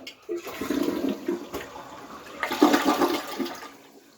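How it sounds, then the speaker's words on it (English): An indoor toilet in a home in Alaska flushes loudly and close by, a rushing surge of water that swells, dips and surges again before draining away, with no voices. "It flushes."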